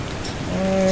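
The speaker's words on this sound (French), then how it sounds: "Il pleut toujours." Rain falling steadily during a storm near Durban, a dense hiss of drops on surfaces, loud and close, with a faint tonal hum entering toward the end.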